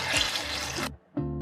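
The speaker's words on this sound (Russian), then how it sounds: "Заливаю их чистой водой." Clean water pours from a tap over orange peels in a kitchen, a close, steady splashing stream that cuts off briefly and then resumes.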